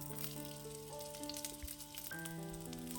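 Half a large onion sizzles and fries in a pan for cabbage chutney, a faint, continuous crackle beneath steady background music.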